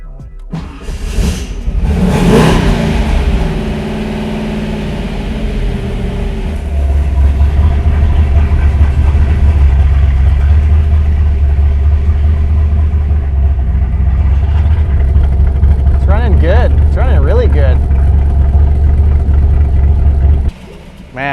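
A car engine fitted with a newly installed Holley Sniper EFI starts with a few loud revs, then settles into a steady low, rumbling idle for a long stretch before cutting off abruptly.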